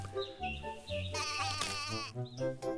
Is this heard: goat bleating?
yes